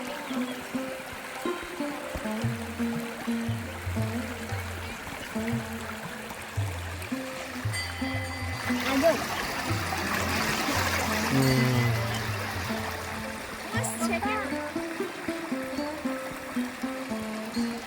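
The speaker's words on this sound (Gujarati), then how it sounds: "એકદમ ખડખડ ખડખડ ખડખડતું પાણી જાય છે" Water gushes and gurgles along a stream near Bapa Sitaram Dham in Bagdana, a continuous rushing wash with steady tonal sounds layered over it and no talking.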